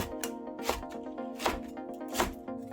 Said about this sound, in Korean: 제육볶음에 넣을 파를 어슷하게 썰어주고